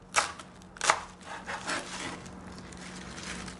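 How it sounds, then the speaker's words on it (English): A few crisp knife strikes on a cutting board, chopping vegetables in an uneven rhythm, fairly close, followed by softer scraping and rustling. "How is it chopping all these vegetables?"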